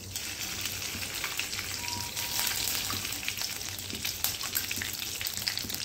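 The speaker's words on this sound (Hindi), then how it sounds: "अब डालेंगे हम इसमें घी।" Ghee sizzles in a hot kadhai on a gas flame, a dense, even crackling hiss that holds steady throughout, close and fairly loud, with no voices.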